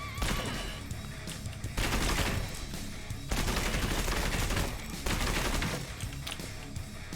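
Sustained automatic gunfire from the video game Gunsmith Simulator, loud and dense, with rapid bursts running almost continuously and only brief dips between volleys.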